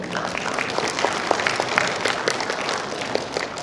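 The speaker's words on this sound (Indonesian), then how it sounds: "Mari kita berikan aplaus" Audience applause at a medical symposium session close, a steady wash of many hands clapping for about three and a half seconds, fairly even in level with scattered sharper claps.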